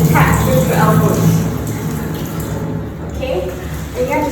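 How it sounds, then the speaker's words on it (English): Tap water runs steadily into a sink during surgical hand scrubbing, a continuous loud splashing hiss that fills the whole stretch with no pauses. "you have to stand in this position and let the water drip"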